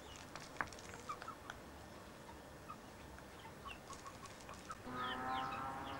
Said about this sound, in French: c'est tout des poulets, des poulettes qui sont un peu plus jeunes